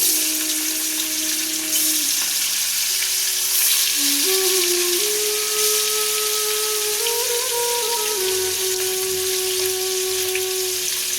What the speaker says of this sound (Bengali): তেল গরম হয়ে গেছে, মাছের তেলে মাছ ছাড়লাম।